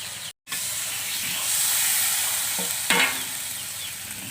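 Water poured into a hot pan of paneer masala sets off a rising hiss and sizzle of steam. A sharp burst near the end is followed by continued bubbling and stirring.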